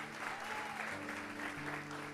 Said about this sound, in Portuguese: Você pode aplaudir Jesus pela vida dos pastores locais.